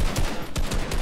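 Rapid gunfire in a Fortnite match, several sharp shots in quick succession over about a second, loud and close.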